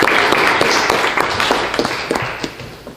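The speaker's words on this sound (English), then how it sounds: "Let's give them a round of applause." Audience applause during a live-streamed school session, a dense wash of clapping with scattered sharper claps throughout, steady and fairly loud, with faint voices mixed in.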